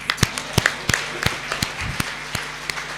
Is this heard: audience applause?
yes